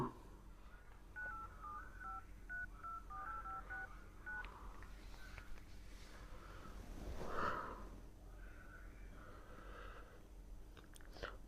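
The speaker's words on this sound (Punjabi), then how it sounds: "ਫੋਨ ਲਾ ਕੇ ਪੁੱਛਦਾ" Telephone dialing tones, a phone being called at home, come as a rapid run of short beeps under a constant low hum, then a few more tones later on.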